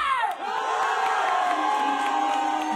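A large concert crowd at a Flint Eastwood show screams and cheers continuously, a dense wall of shouting and whooping voices that stays loud throughout.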